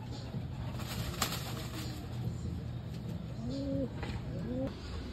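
Pet pigeons landing after a flight coo softly a few times against a steady outdoor hum, with faint, brief rustles that could be wings.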